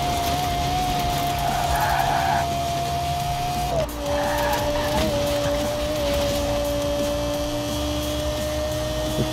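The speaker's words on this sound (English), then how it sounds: "I love the engine sound of this car." Lexus LFA engine in Forza Horizon 4, a steady high-pitched sustained whine that holds near-constant pitch, dips briefly midway, then resumes at a slightly lower pitch, loud and continuous with no talk.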